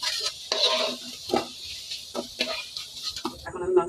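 Potatoes fry in a pan, with a soft sizzle broken up by several scraping stirs and clinks of a utensil against the pan, close and uneven in rhythm.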